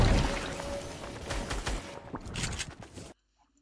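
Dense bursts of gunfire crackle in rapid succession for about three seconds, then cut off abruptly into near silence.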